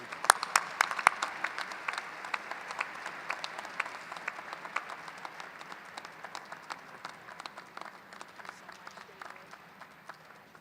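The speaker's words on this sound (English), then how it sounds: "Please give a round of applause" A graduate school commencement audience applauds, with sharp individual claps standing out at first, then a steady, moderately distant patter of many hands that slowly thins.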